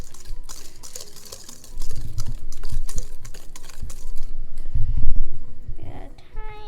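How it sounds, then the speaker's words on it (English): Wire whisk working flour into a butter cookie dough in a bowl, a fast irregular scraping and tapping with heavier thumps midway, close and fairly soft. "I'm going to whisk it in"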